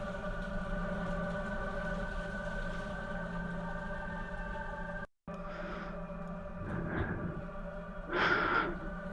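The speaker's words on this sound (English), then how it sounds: "Heavy breathing. Strained, raspy, and painful breathing from what sounds like a woman." Strained, raspy, painful heavy breathing from a woman on a phone call in the horror game Another Paranormal Activity, steady and close over a droning background hum, with a brief dropout and louder gasping breaths toward the end.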